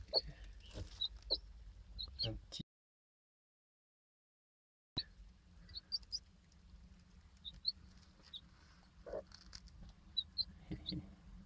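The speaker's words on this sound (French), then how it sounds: "les petits poussins qui ont 6 jours" Six-day-old chicks peeping in faint, high, scattered chirps over soft shuffling and rustling, with a sudden gap of silence partway through.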